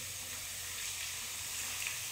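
Potato chips fry in a pan with a steady, close hiss of sizzling oil that stays even throughout, with no voices present.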